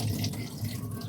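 A kitchen tap runs steadily into a sink, a continuous close splashing hiss with no voices.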